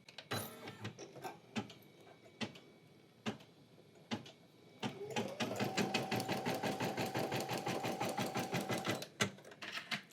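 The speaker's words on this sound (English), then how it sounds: "Let's put the presser foot down and we will start stitching." Embroidery machine stitching 3D puff foam, starting with a few separate clunks and then settling into a steady, fast, rhythmic stitching chatter with a faint motor whine, close up and with no talking.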